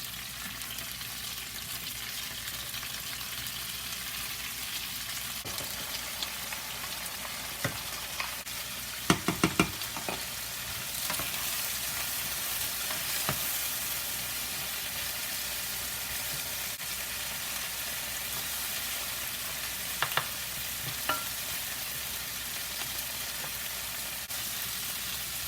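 Rice, zucchini and onion sizzle and fry steadily in a pan, a continuous crackling hiss broken by a few brief knocks and stirring clatters, with no talking.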